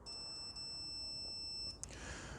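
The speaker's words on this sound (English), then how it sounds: "our multimeter starts beeping" A multimeter in continuity mode beeps as its probe touches a red wire while checking the onboard charger of an MG ZS EV; a steady high tone holds for nearly two seconds, then cuts off with a click.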